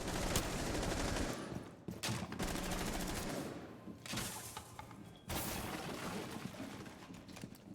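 Gunfire bursts and grenade blasts in a Rainbow Six Siege esports match, fairly faint and distant, with sustained rattling fire broken by a few sharp drops and bangs.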